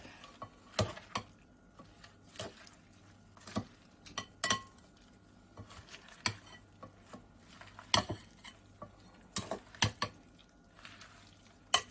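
A spoon stirs chili in a pot, giving irregular scraping clinks and knocks against the metal at an uneven pace, fairly close and with no voices.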